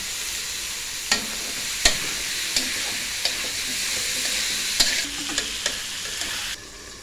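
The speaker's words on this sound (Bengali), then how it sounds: "আমরা কাঁঠাল বিচিটা ভালো করে কষাইয়া" Jackfruit seeds and dried fish sizzle steadily in a hot pan, with a spatula scraping and clacking against the metal at irregular intervals.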